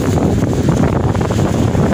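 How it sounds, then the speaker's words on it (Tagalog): Strong wind buffets the microphone in a steady, loud, low rumble, with no voices. "Sobrang lakas ng hangin."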